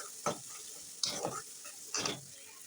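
Spice paste of ginger, garlic and chilli sautéing in a pan, three separate bursts of stirring scrape and sizzle about a second apart over a quiet background hiss.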